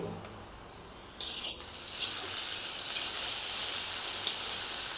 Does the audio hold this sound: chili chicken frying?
yes